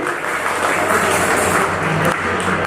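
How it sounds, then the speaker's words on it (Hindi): Workers club secretary at an Indian Railways retirement gathering receives a steady, dense round of audience applause filling the whole stretch, loud and continuous with no clear break. "इनके लिए जोरदार तालियां मार दो एक बार।"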